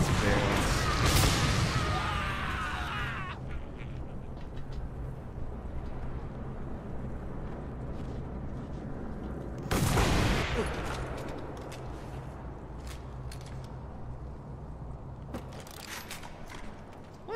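Two loud gunshot blasts ring out in a Mad Max wasteland fight, with barrels being shot, each followed by a long rumbling decay and scattered smaller cracks over low engine drone.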